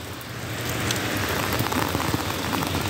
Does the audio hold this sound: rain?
yes